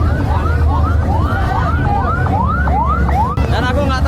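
An ambulance siren wails through an ogoh-ogoh parade in Sangsit, North Bali, its repeated rising sweeps loud and close over a dense, constant rumble of crowd and traffic.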